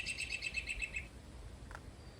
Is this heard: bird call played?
yes